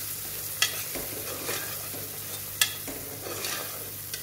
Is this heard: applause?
no